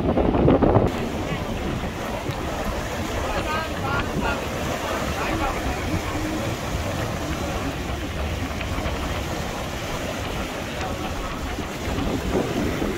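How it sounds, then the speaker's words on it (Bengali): Strong wind gusts over a river in Noakhali, buffeting close as a constant rumbling roar with water washing beneath and a steamer out in midstream, with no talk. "কি বাতাস, অসাধারণ।"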